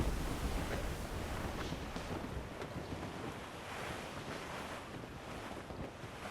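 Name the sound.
wind and ocean waves at sea in the video game Assassin's Creed Rogue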